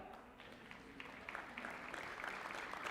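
An audience claps at a summit event, a soft, distant patter of many hands that swells slightly over a few seconds beneath a faint room murmur.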